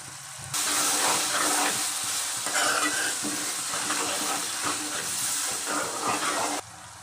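Garlic and spices sizzle steadily in a pan for a meal-maker masala curry, a loud continuous frying hiss with occasional stirring, starting abruptly after half a second and cutting back near the end.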